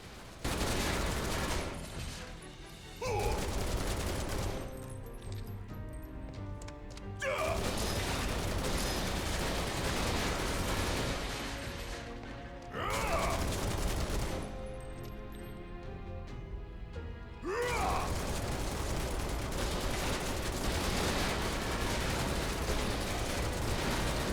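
Rapid bursts of gunfire crackle in Final Fantasy 7 Remake as rocks at a corridor's end are shot, with three or four dense volleys separated by brief lulls over a steady mechanical game background.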